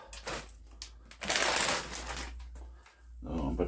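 Frozen raspberries poured through a funnel into a small jar while making raspberry liqueur, a rattling, crunching tumble of icy berries at close range over a low steady hum.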